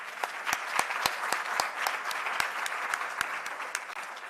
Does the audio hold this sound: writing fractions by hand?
no